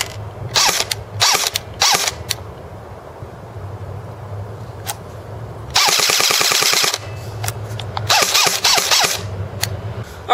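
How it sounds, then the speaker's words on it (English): An A&K ACR Masada airsoft rifle fires BBs into a trap in several rapid bursts of sharp mechanical clatter, loud and close, with a longer full-auto string near the middle and quieter gaps between. "I'm going to shoot it out, shooting in a safe direction into a trap."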